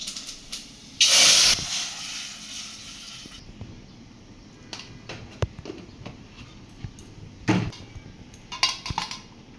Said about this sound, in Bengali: তেল গরম হয়ে গেছে, এখন দিয়েছে পেঁয়াজ কুচি, তারপর শুকনো মরিচ